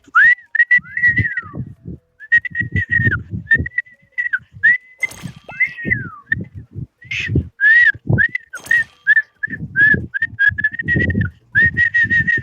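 A person whistles a series of short warbling notes and phrases, broken by pauses, with low muffled thumps and rustling underneath, during the online game Mecha Chameleon in the Weplay app.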